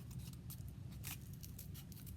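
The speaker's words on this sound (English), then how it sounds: "I'm actually going to just go ahead and cut" Scissors snip through craft material for pom pom ice cream cones, cutting into a middle circle: a few soft, close crunching cuts over a low steady background hum, no talk.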